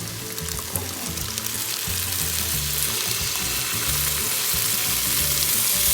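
Marinara sauce and pesto sizzle loudly and continuously in a hot pan, a dense, bubbling fry with no talking over it.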